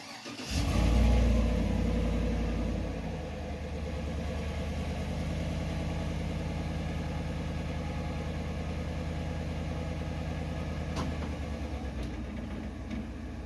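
A 2018 Chevrolet Silverado truck engine rumbles steadily as it backs out, with a brief louder surge near the start before settling into a low, even idle-like drone.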